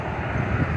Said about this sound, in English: Bro, that's a regular Southwest plane.